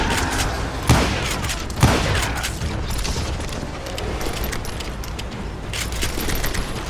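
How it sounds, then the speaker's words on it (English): Gunfire in the Western video game Call of Juarez Gunslinger: two sharp shots about a second apart crack over a steady, busy background of game ambience. "now that the shooting has started, there was no backing down"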